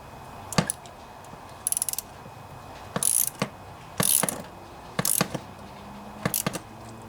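A ratchet wrench tightens an NGK spark plug on a Honda EU2000i portable generator: short bursts of rapid clicking, about six separate strokes with brief pauses between, close and clear in a quiet room.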